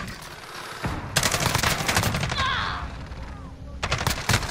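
Rapid gunfire from Call of Duty Modern Warfare during a multiplayer hardpoint match, with dense bursts of automatic shots starting about a second in and continuing, plus more bursts near the end, over a busy game background.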